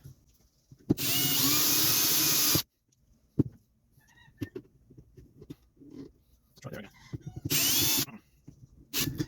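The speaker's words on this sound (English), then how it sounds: "come with the other drill bit that should be big enough" A power drill with a drill bit whines into a part of a 1950s Swiss Monti Super spinning reel in two loud bursts of about two seconds each, with quieter handling clicks and low talk between them.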